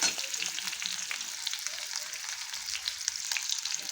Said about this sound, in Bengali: এখন ইঁচড় ভেজে নেব